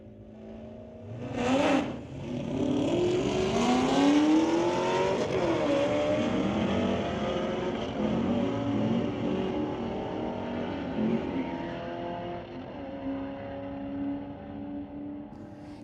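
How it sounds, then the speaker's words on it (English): Drag race on a strip: a 1968 Dodge against a 2017 Camaro, loud engines launching and revving hard with a brief sharp burst near the start, then sustained roaring acceleration fading slowly into the distance. "Matt Recknagel from Abbotsford in the 1968 Dodge going against Gary Butler in the 2017 Camaro."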